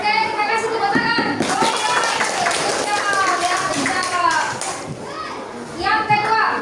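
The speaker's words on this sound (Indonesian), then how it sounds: "Oke, kita kasih tepuk tangan." Children in a classroom coding lesson clap their hands together briefly, amid lively chatter and children's voices that carry on around and after the clapping.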